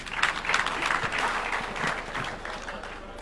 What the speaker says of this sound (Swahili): Tumpigie makofi Mheshimiwa Rais.